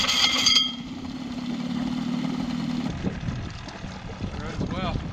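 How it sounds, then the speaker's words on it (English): A boat engine runs with a low steady rumble beneath wind and water noise, with a voice speaking over it near the end. "except we got the engine running"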